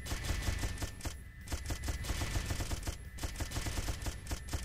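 Rapid gunfire from a gun in the video game Judgment Day, a steady stream of sharp repeated shots in quick rhythm, with a brief gap partway through, fairly quiet overall.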